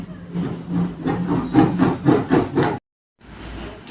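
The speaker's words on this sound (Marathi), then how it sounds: "टाकीच्या उंचीच्या मध्यभागी सोबत दिलेल्या ड्रिलने होल मारून घ्यायचे" A supplied drill bores a hole midway up the side of a plastic Jeevamrut fermenter tank, a close, loud grinding whir in pulsing strokes that stops abruptly, then resumes more quietly.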